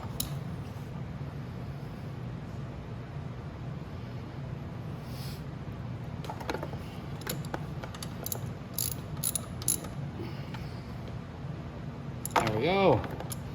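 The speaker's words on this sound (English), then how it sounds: "when you're tightening, just hold this tire so you can get it nice and tight" A chain adjuster is tightened on a Venom E-Madix 1300W electric ATV: scattered metallic ratcheting clicks come in short bursts over a low background hum, with a louder rattling burst near the end.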